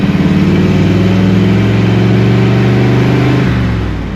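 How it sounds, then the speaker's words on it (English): A loud V8 engine in a 73-year-old stock classic hot rod roars steadily as it accelerates down the road, its deep rumble close and sustained, then easing off near the end. "It's a loud V8 yet."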